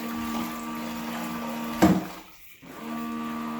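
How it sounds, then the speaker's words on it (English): Spray nozzles on a mop cleaning machine run with a steady close hum and hiss, broken by a brief sharp clunk and a short dip before the steady whir resumes. "You can hear the spray nozzles working."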